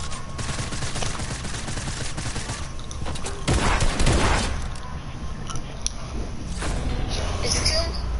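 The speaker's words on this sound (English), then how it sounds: "Somebody shooting you down." Gunfire crackles in a video game shooter, with a dense spell of rapid shots in the middle amid a steady background of game noise.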